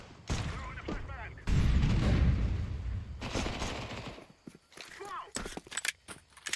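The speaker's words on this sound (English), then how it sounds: "Throwing a flashbang." A flashbang grenade thrown in the competitive shooter CS2 on a Faceit match, with a sharp loud burst and rumbling blast among footsteps and gunfire, while a player talks over it.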